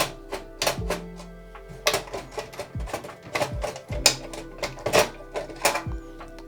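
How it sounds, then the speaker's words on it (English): Plastic CPU shroud pulled from a Dell Inspiron desktop, heard as a rapid run of sharp clicks, snaps and scraping knocks, close and fairly loud, with no voices. "First up, let's get the CPU shroud out."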